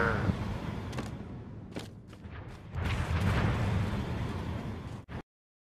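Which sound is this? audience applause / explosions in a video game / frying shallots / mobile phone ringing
explosions in a video game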